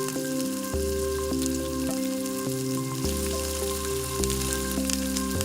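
Mustard seeds, thinly chopped onions and curry leaves fry in hot oil with a steady crackling sizzle, partly masked by louder stepped musical tones playing over it.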